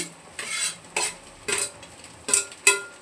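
Beans and mixed vegetables for noodles are stirred in a pan with a utensil: about five distinct scraping strokes, close and fairly loud, with a light sizzle underneath.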